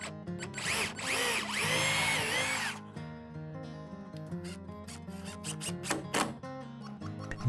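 An impact driver drives screws into 5.5mm plywood sheets over furring strips for a tatami room wall, a loud close whirring burst followed by a run of sharp rapid hammering clicks.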